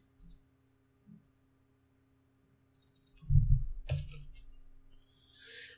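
A few sharp computer mouse clicks scattered over near silence, faint and isolated at first, then a louder cluster of clicks and handling noise in the middle, ending with a soft rustle.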